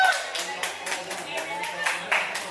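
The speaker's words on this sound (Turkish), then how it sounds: "Alkış alkış alkış." Guests at a birthday celebration clap in uneven bursts during a gift presentation, fairly close, with voices chattering over the handclaps.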